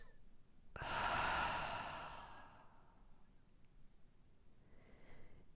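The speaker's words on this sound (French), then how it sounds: "Et une dernière fois, inspire." A deep, slow breath during a guided yoga nidra relaxation, a long airy inhale-exhale rising and fading over a couple of seconds, followed by a faint softer breath near the end; close and quiet, with no talking.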